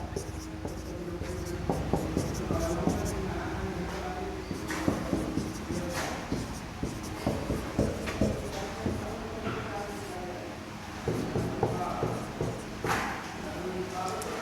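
Pen or chalk writing during a number-system math lesson gives steady scratching strokes and soft taps throughout, with a teacher talking over them and a faint roomy background.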